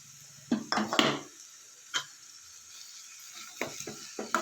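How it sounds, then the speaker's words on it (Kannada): Grated raw mango drops into a pan for a mango chitranna, followed by scattered scraping and clinking of a spoon against the pan, close and intermittent with quiet gaps. "ಇದಕ್ಕೆ ನಾವು ತುರಿದಿರೋ ಮಾವಿನಕಾಯಿನ ಹಾಕ್ಕೊಳ್ಳೋಣ."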